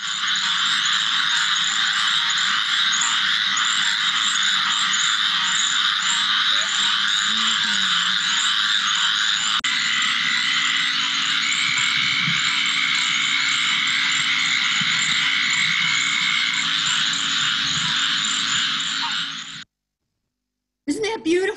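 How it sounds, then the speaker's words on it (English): A dense chorus of frogs calls continuously at night in a swamp, a loud trilling and croaking mass that fills the air before cutting off abruptly near the end. "All right, are the frogs going to call or aren't they?"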